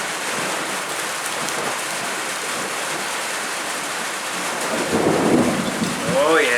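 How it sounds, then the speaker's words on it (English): A thunderstorm rages outdoors, with steady heavy rain hissing throughout and a low rumble of thunder swelling near the end. "that storm's outside right now"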